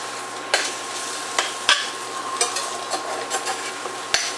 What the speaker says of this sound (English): And just mix it until they're done.